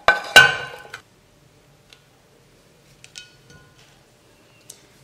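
Fried ingredients are scraped into a glass blender jar, giving a couple of sharp clinks and clatters at the start, followed by faint scattered taps and small knocks in a quiet kitchen.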